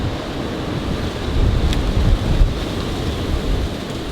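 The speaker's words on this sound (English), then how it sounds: "See how windy it is?" Strong wind roars steadily against the microphone, a low rumbling buffet with gusts swelling in the middle, no voices.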